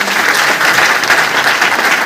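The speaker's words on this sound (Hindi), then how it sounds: "जबरदस्त ताली होना चाहिए।" Loud, dense applause from a meeting audience fills the whole stretch in a steady, continuous wash of clapping.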